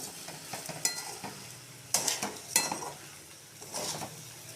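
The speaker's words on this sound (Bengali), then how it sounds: "এবার আস্তে আস্তে নাড়বো" Rice and fried rohu fish heads being stirred slowly in a pan, with a spoon scraping and clinking against the metal in a few bursts over a low sizzle.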